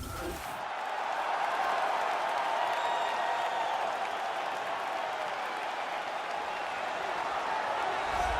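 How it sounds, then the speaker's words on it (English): Arena crowd in the video game EA UFC 3 roars and applauds continuously as a middleweight fighter walks to the octagon, a dense, sustained wall of cheering at steady loudness throughout. "the crowd pops as this guy makes the walk to the octagon"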